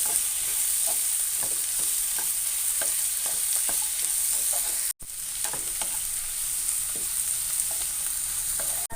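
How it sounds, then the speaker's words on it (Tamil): Tomatoes and a few cashews sauté in a pan for paneer butter masala, giving a steady close sizzle broken by scattered clicks and scrapes of stirring, with a brief break midway; no one speaks. "இதையும் நல்லா வதக்கிக்குங்க."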